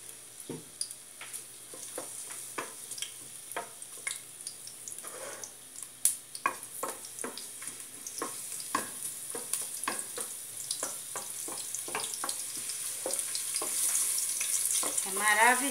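Five garlic cloves fry in a pan with a bright, crackling sizzle, punctuated by frequent clicks and scrapes of stirring that grow busier toward the end.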